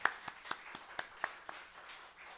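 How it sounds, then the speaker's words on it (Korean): A church congregation claps to welcome a guest during a worship service: a short run of quiet, evenly spaced claps, faint and sparse rather than a full ovation. "우리 박수로 환영하도록 하겠습니다."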